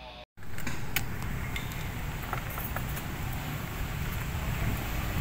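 Steady wind rushes and buffets the microphone outdoors, a continuous broadband roar with faint patter and occasional small knocks, after a brief dropout at the very start.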